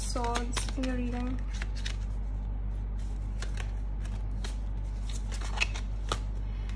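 Tarot cards are shuffled and drawn in quick, soft riffling bursts and light flicks, close and quiet, with a steady low hum underneath.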